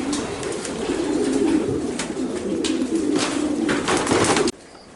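A racing pigeon coos softly while held in the hand, its low, repeated throaty calls close and steady over light rustling, with no talk.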